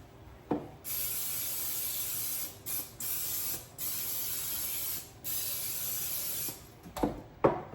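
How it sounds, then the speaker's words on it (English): Cooking spray hisses from a can onto a Pullman loaf pan in several short bursts of about a second each, close and clear, separated by brief pauses and light handling clatter. "First I need to grease it."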